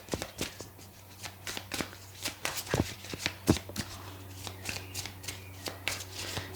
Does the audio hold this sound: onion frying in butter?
no